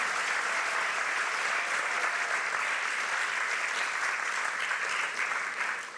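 An audience at a youth empowerment talk applauds the speakers, with dense, sustained clapping filling the hall for several seconds before beginning to thin out at the end.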